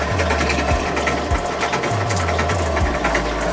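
A cheap Chinese drill press motor runs steadily with a loud, continuous hum and rattling vibration, the loosely mounted motor rocking and knocking in irregular thumps.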